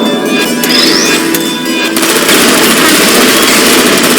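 Automated turrets firing in the video game Portal Stories: Mel, a loud, dense, continuous rattle of rapid gunfire with a thin whine early on, filling the whole stretch without speech.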